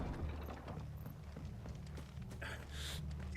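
Horses' hooves clip-clopping in the video game Final Fantasy XVI, a steady soft patter of steps over a low rumbling bed with a brief brighter hiss near the end, fairly faint and with no talk.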